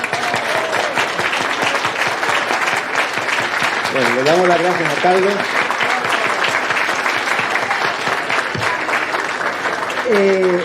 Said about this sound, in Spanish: un aplauso a las mujeres misioneras que nos acompañan